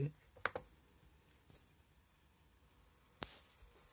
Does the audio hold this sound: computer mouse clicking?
yes